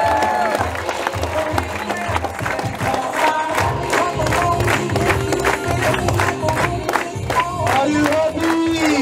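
A crowd at a leaders' meeting claps and cheers loudly and continuously, with rhythmic clapping, shouts and an amplified voice mixed into the din.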